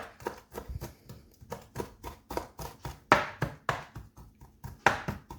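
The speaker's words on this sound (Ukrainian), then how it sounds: "Зелень дрібненько нарізаю." A knife finely chopping fresh herbs such as parsley or dill on a board, a steady run of close, sharp taps in an uneven rhythm with a few louder strikes.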